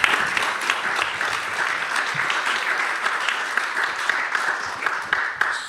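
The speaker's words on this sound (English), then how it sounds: "A warm round of applause for Mihaela." Warm applause from a conference audience thanking a presenter named Mihaela, a steady dense wash of many hands clapping that holds evenly from start to finish with no voices.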